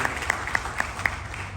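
Applause welcoming a guest at an environmental seminar, heard as steady crowd clapping with a few sharp, regularly spaced claps standing out over the continuous wash.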